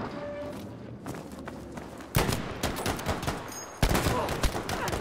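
Rapid gunfire from Battlefield V in sniper-focused multiplayer, with sharp shot bursts jumping out around two and four seconds over a busy battlefield bed, alongside speech.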